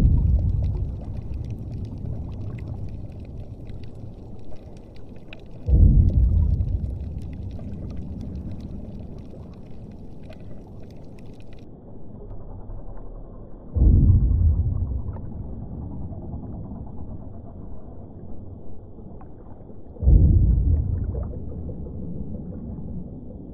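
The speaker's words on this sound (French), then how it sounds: "Voici le son d'une plateforme pétrolière." An offshore oil platform recorded underwater produces a continuous low rumbling drone, with three heavy surging swells of deep noise recurring every several seconds and no voices.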